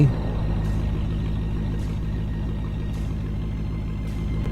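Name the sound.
truck idling in a video game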